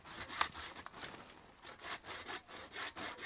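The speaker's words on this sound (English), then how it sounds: "Hand saws are handy." A hand saw cuts through wood in quick, rhythmic back-and-forth rasping strokes, fairly faint and close, with a scratchy texture and no talking.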